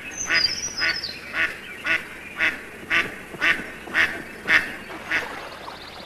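Mother duck quacking in a repeated series of about ten evenly spaced calls, moderately close and clear over a quiet background, with no talking.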